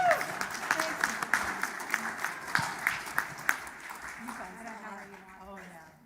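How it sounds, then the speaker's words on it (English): Scattered applause from a church gathering, individual claps standing out sharply over a softer crowd wash that thins and fades toward the end, with some voices underneath. "Let's give them another round of applause."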